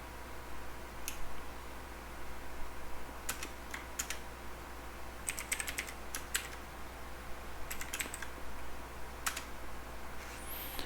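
Faint keystrokes on a computer keyboard as code is typed, scattered clicks in short bursts over a steady low hum, with no talking.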